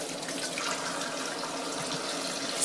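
Pickle slices for bread and butter pickles, still mixed with ice, are rinsed and drained under running water, a soft continuous splashing rush, quiet and steady throughout.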